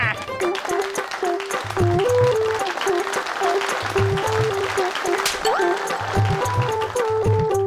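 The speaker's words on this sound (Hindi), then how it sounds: "मानव, मेहर और बल्लू के लिए एक बार फिर से जोरदार तालियां" An audience claps for Manav, Meher and Ballu in a Baalveer TV episode, a lively round of applause running under a bouncy music cue with recurring bass beats, steady and fairly loud throughout.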